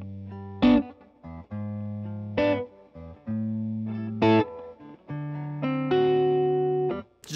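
A Les Paul electric guitar on its bridge pickup plays separate sustained chords and notes, each starting with a bright attack and ringing out cleanly with short gaps between them and no voices.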